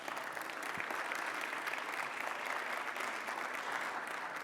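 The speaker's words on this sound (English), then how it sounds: "Give yourself another round of applause" A gala audience at the Raise a Record Gala 2022 for the Melodic Caring Project gives a steady, full round of applause, dense and unbroken from start to finish with no speech over it.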